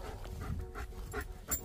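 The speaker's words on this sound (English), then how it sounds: "Puppy dogs." Staffordshire bull terrier and German Shepherd puppies pant quickly in short, breathy bursts nearby, with faint whimpers mixed in, over a soft outdoor background.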